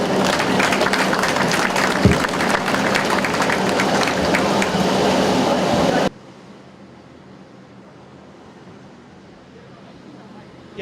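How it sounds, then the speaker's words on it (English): Applause from an outdoor festival crowd at the closing Sunday of India Mela 2014 in Victoria, BC fills the first six seconds as dense, loud clapping, then cuts away to a faint, quiet background. "A big round of applause for yourself."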